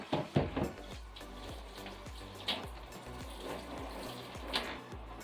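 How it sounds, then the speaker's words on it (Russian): Running tap water splashes over plastic refrigerator drawers as they are rinsed in a sink. The sound is a soft, steady patter with scattered irregular drips and clunks, faint and close, and no one speaks. "споласкивайте их проточной водой и вытирайте насухо"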